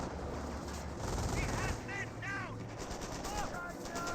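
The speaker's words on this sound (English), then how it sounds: "MG42 firing away." Bursts of MG42 machine gun fire crackle in a Company of Heroes battle, mixed into a dense, steady wash of game noise and distant combat with some faint voices.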